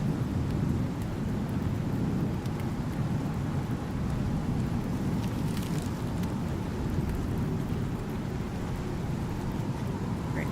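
A steady thunderstorm with heavy rain in the survival game Icarus, set on the planet Prometheus: a continuous dense roar of rainfall with low rumbling thunder throughout, loud and unbroken, no talking.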